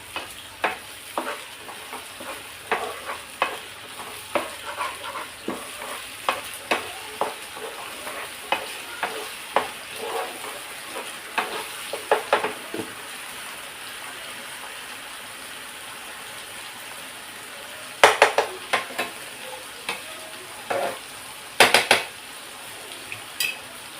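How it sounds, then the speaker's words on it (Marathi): Tomato puree fries in oil in a pan for a festive Maharashtrian meal, a soft continuous sizzle broken by regular clinks of a spoon stirring against the pan, with a burst of louder scraping toward the end. "टॅमॅटोची प्युरी घालून घेतली आहे मी आता परत एकदा ह्याला फ्राय करून घेते"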